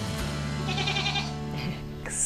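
A single goat gives a long wavering bleat, close and clear, over a faint steady hum.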